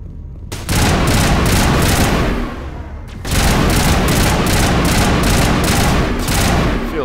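Sustained automatic weapon fire from Mass Effect gameplay: dense, loud bursts of rapid shots, a brief lull near three seconds, then another long continuous volley.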